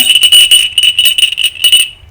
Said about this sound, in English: I like ringing my bell